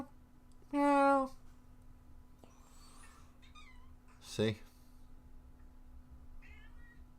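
A pet cat wanting food gives two loud, drawn-out meows a few seconds apart, close by in a quiet room, with a person talking softly between and after the calls.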